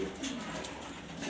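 Soft, low cooing from grizzle racer pigeons kept in Mirpur, Dhaka, a few murmuring coos rolling one after another at close range against quiet ambient noise, with no talk.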